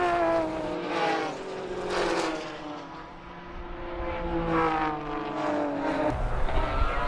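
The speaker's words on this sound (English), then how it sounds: "listen to the roar of the 6-cylinder BMW engines" Six-cylinder BMW race car engines roar past at Phakisa, their pitch rising and falling through gear changes, loud and close with no commentary over them.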